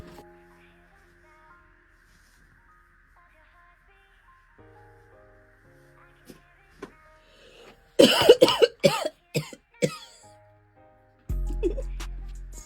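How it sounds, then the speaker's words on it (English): A person coughs in a quick burst of several sharp, close coughs after a quiet stretch with faint background sounds, followed by a heavier low thump near the end. "It's not necessary to cough like that"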